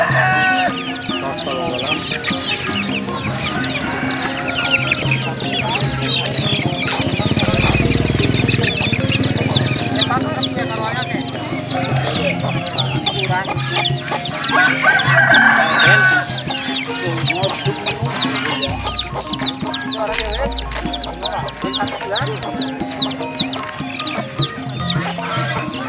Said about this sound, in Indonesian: Ini anakan umur sekitar 1 minggu ya pada dijual ya sama babonanya.